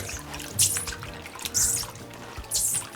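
Water running and splashing while pork liver is rinsed in a sink after a vinegar soak, with three bursts of splashing at roughly one-second intervals over a steady trickle.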